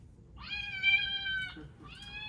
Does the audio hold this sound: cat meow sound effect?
yes